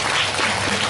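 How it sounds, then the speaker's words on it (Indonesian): Brief burst of audience applause during an Indonesian religious lecture, a dense wash of clapping heard for under a second. "Harus tepuk tangan."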